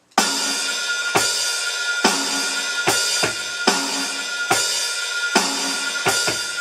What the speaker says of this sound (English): This bass drum combination sounds like this.